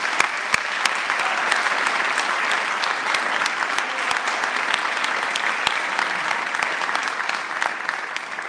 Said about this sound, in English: let's give our top 10 one more round of applause,